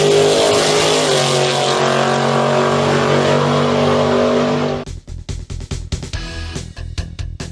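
Classic cars cruise up and down 39th Street at a Route 66 cruise, a loud sustained engine drone passing close by that abruptly gives way to a rumbling, choppy idle with a rapid throbbing beat.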